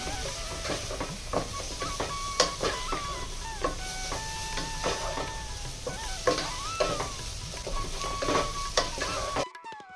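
Chicken and paneer fried rice ingredients sautéed in a pan, a continuous close sizzle and hiss broken by scraping stirs and clinks of the spatula against the pan.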